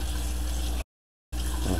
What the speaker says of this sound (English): Run some water in there